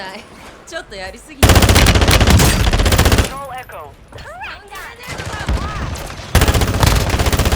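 An AR rifle in Call of Duty Warzone 2.0 firing loud, fast automatic bursts: one long burst early and another at the end, with a voice talking between them.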